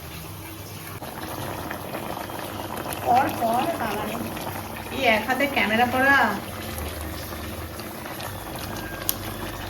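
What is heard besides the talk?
curry gravy boiling in pot for veg biryani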